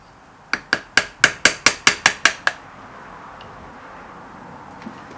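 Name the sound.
chipping out a millpick haft with hammer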